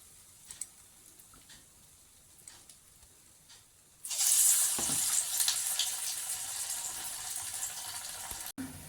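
Banana flower vadas dropped into hot oil start a sudden loud sizzle partway through, a bright steady crackling that continues after a quieter stretch of faint kitchen background.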